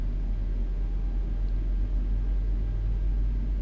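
A LevelUp 737NG airliner engine hums from inside the cockpit of a flight simulator, a steady low rumble with a faint thin whine held throughout at even volume.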